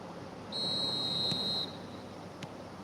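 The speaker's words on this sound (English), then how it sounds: "Whistle goes, and we start the second half" A referee's whistle in the eFootball video game signals the start of the second half with a single clear, sustained blast of about a second over quiet crowd ambience.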